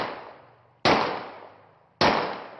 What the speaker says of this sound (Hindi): वीडियो में देखा जा सकता है कि मुल्जिम बड़े आराम से हवाई फायरिंग कर रहा है।